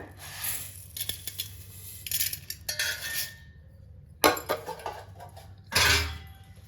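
Raw white rice washed by hand in a metal vessel while preparing Pongal, with intermittent bursts of grainy rattling and swishing plus metallic clinks against the pot, close and clear, separated by short quiet gaps.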